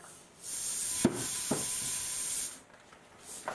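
Brake fluid cleaner sprays from an aerosol can onto the engine area of a 2015 Mini One 1.2 during an oil change, a close, loud continuous hiss lasting about two seconds, then a brief short burst.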